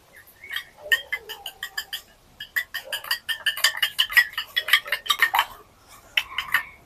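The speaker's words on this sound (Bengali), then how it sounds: "ডিমটাকে ভালো করে ফেটে নিব" Rapid, uneven clinking of a fork beating egg in a bowl, coming in quick bursts with short pauses between.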